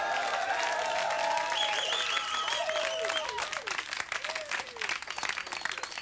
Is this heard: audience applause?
yes